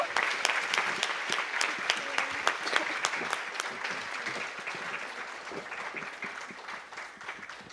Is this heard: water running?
no